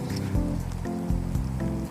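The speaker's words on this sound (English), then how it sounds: "We are now in the rain, waiting for Mother." Steady rain falls in a cold park, a broad, even hiss with some low rumbling underneath and no voices.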